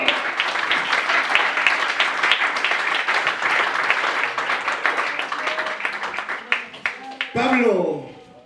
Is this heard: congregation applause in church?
yes